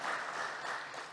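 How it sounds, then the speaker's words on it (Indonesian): Audience at an Indonesian capital market anniversary event applauds steadily, a dense wash of many hands clapping together for the whole moment with no voices on top. "Boleh tepuk tangan untuk kita semua."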